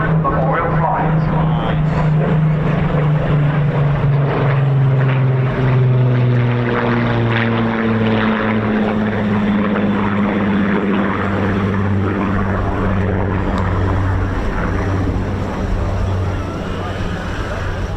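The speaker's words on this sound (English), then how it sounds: "Royal Air Force Battle of Britain Memorial Flight" Vintage propeller aircraft of the Royal Air Force Battle of Britain Memorial Flight pass overhead at an air show, a steady loud piston drone whose pitch slowly sinks as they go by, with a commentator's voice over it.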